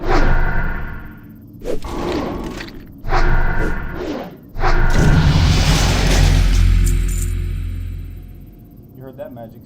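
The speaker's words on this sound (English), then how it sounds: "You heard that magic sound? Was that your level up?" Level-up chime from World of Warcraft as a priest reaches a new level in Duskwood, a bright magical shimmer rising over game sounds and thuds, swelling loud then fading out over several seconds.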